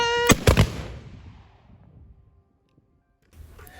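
A single artillery gun fires close by: a sharp, loud blast with a quick double crack, then a rumbling echo that fades to near silence before faint noise returns.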